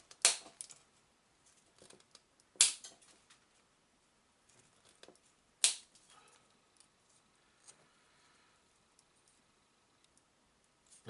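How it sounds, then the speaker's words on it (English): Cutters snip off miscast pieces of miniature open trench defences for Bolt Action wargaming terrain: three sharp, close, loud snips spaced a few seconds apart, with faint ticks and small clicks of handling between them and no talking. "all I'm going to do is snip them off"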